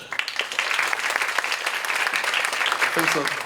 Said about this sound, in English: Let us give a warm applause to Mr. Poshun.